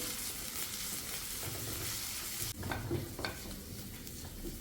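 Coriander, curry leaves and chopped green chilli sauté in a hot pan, a continuous close sizzle broken midway by a stirring scrape and a few spatula knocks, with no voices.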